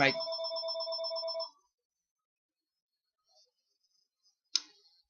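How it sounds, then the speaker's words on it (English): A telephone bell rings loudly in a rapid, steady trill for about a second and a half, then stops; silence follows, broken by a faint click and a sharp knock near the end. "that was a phone."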